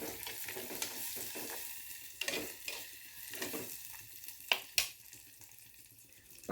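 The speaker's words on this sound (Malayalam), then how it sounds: "നന്നായിട്ടൊന്ന് മിക്സ് ചെയ്യുക" A ripe banana mixture for Kerala pazham pulissery fries quietly in a pan, with a soft steady sizzle and several scraping stirs, including two sharp clacks near the end.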